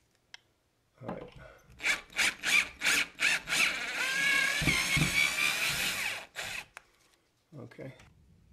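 A Warrior 18-volt cordless drill whirs in several short bursts, then runs steadily for a few seconds before stopping, close and loud.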